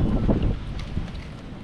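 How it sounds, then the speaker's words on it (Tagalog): Strong wind buffets the microphone outdoors with a steady, loud low rumble that eases slightly toward the end, with no voices. "Ang lakas ng hangin talaga."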